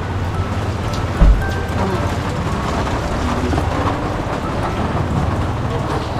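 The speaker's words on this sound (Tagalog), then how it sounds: "Grabe ang ulan" Heavy rain pours steadily as a dense, even hiss, with a low rumble underneath and a brief thump near the start.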